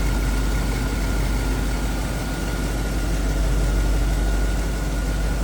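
A 1960 Cadillac Series 62 convertible with factory air conditioning idles close by, its engine giving a steady, even low rumble that never changes pace, with no one talking.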